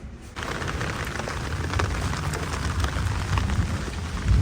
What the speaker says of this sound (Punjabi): ਹੁਣ ਮੀਂਹ ਪਿਆ ਅੱਜ ਬਹੁਤ।